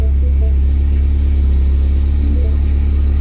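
A modified Mini Cooper R58 JCW with a stage 3 clutch and new flywheel runs at a steady idle, giving a loud, close, continuous low engine rumble with no voices.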